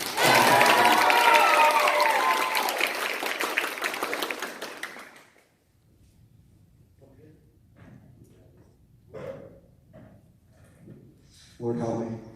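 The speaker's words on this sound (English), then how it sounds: "Somebody clap for Brandon" An audience at a lab talk on implicit bias breaks into loud applause and cheering for about five seconds, then it fades to scattered noise and a few faint voices.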